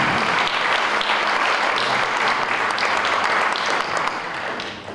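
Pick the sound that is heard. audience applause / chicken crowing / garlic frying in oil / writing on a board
audience applause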